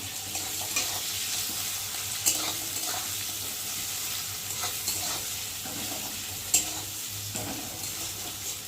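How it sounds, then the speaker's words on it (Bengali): Onions frying in a pan as they are stirred, an even crackling sizzle throughout with occasional spoon scrapes and a couple of sharper clicks, close up with no talk. "একটু ভালো করে ভেজে নেবে পেঁয়াজটা"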